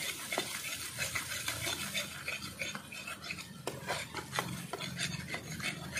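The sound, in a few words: stirring spice paste with coriander powder in pan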